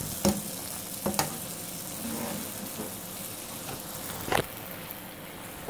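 Steak pie meat sizzles steadily as it is sealed in a hot pan, a continuous frying hiss broken by a few sharp crackles and scrapes, close and alone with no talking.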